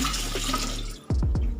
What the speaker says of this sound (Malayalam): ഇതിലേക്ക് നമുക്ക് ആവശ്യത്തിന് വെള്ളം ഒഴിക്കുക